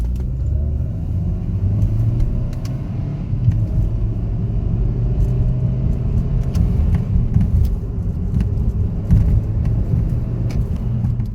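A Hyundai Veloster drives along with a steady, loud low engine rumble and road noise from inside the cabin, the tone shifting slightly as it changes gears.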